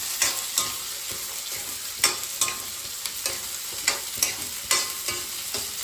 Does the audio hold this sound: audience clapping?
no